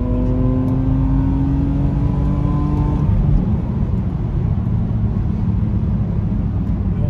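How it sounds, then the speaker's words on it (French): A BMW Z4 convertible pulls away and accelerates, its engine tone rising steadily and loud up close for the first three seconds, then settling into a steady drone mixed with wind and road rumble. "Est-ce que tu veux filmer une accélération?"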